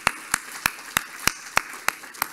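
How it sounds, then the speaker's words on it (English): A room of netball delegates at a congress offering applause, heard as a sparse series of eight loud, evenly spaced sharp claps at a slow, regular rhythm against a quiet background. "So I'd like a round of applause to you all"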